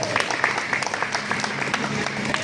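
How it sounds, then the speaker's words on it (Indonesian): An audience claps steadily and continuously at a fishing event held in a shopping mall, a dense, even patter that fills the space. "Tepuk tangan untuk kita semua"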